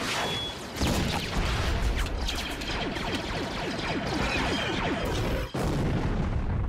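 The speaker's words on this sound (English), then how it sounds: "The clones briefly overwhelmed him with blaster fire and a rocket launcher explosion." Dense, rapid bursts of sci-fi blaster fire with a booming rocket launcher explosion from a Clone Wars battle, loud and continuous with crashing impacts throughout.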